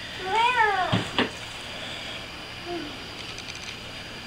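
A person imitates a cat with a rising and falling meow, followed by a couple of knocks and then a short, softer vocal squeak, all fairly close in an otherwise quiet space.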